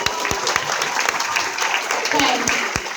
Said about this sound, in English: Let's give Andy another round of applause.